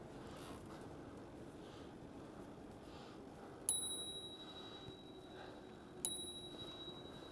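Two bright bell rings on a Riese & Müller Homage HS e-bike, spaced a couple of seconds apart, each decaying over a steady wind-and-road rumble while riding on the Minuteman trail.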